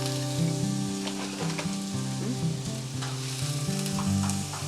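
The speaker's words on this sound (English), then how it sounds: "There we go, we like that sizzling." Onions and vegetables for pineapple fried rice sizzle steadily in hot oil in a pan, a close, continuous frying hiss that stays at an even level throughout.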